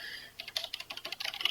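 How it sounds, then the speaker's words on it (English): Quick, close clicks of a computer keyboard as someone types a few entries into a system, in short irregular bursts with no voices over them. "I'm just typing a few things in on the system here."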